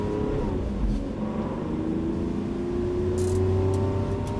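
A Lamborghini Aventador pulls hard under full throttle on a race track, its engine a loud, steady roar that climbs in pitch, with a low rumble and a brief hiss of wind near the end.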